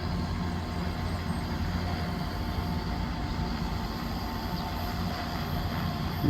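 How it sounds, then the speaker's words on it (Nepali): An agricultural drone spraying pesticide over a soybean field outdoors, giving a steady, continuous broadband whir and hum that holds at an even level throughout with no voices. "ड्रोन मार्फत औषधि हाल्दा"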